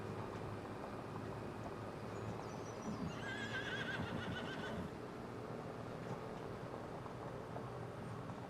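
Horse neighing in Farming Simulator 25, a whinny rising out of a quiet ambient background of low rumble alongside faint hoof clip-clops, heard at a distance and fairly soft; no talking.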